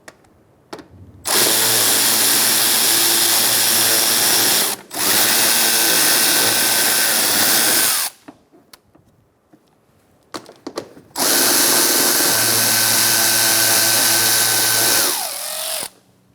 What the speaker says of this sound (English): we're going to switch back to our 7mm socket. Take out this bolt and this one.